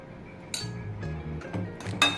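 A spoon clinks sharply against a pan several times while ghee is added to roasting rava for coconut ladoo, the bright metallic taps scattered irregularly and close by.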